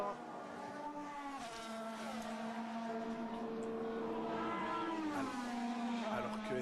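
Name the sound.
Formula 1 car, Esteban Ocon's Alpine, crossing the line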